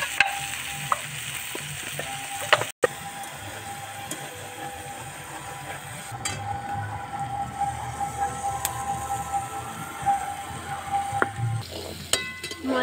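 Beans frying and sizzling in a pan, a steady soft crackle with occasional stirring scrapes and clinks of a utensil, close by and moderately quiet, with no talking.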